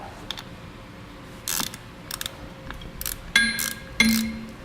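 A ratchet clicks in short bursts while flat bolts are snugged down on air spring brackets for a 2016 GMC Sierra, the quick clicking close and moderately loud against a quiet background, with a few light metallic clinks.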